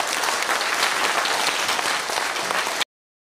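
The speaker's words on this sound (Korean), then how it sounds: "나오실 때 큰 박수로 환영 좀 해주시고" Audience applause at a local party members' education meeting in Gimcheon: dense, steady clapping from a large crowd indoors, loud and continuous for almost three seconds before cutting off abruptly.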